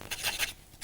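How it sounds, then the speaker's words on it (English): A silver pen scratches short strokes along a picture frame while drawing nails, producing a few quiet, rasping rubs in quick succession. "Just going to draw in some nails around the edges of the frame there."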